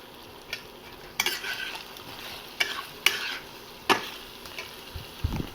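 Ginger, cumin, green and red chili sautéing in a pan hiss softly beneath repeated sharp scrapes and knocks of a spoon stirring, with no voices.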